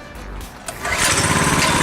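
A small KT196 go-kart engine with a replacement carburetor, warm and run without choke, fires on a single pull after a brief rustle, then settles into a loud, steady, buzzing idle, heard close up.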